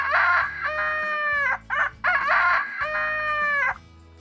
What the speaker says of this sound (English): this is how the cocks crow.